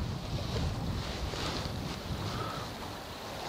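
Strong, steady wind gusting and buffeting the microphone beside open water during a carp fishing session, a broad continuous roar with a faint lapping of water underneath.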